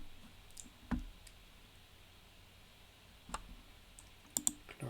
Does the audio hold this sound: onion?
no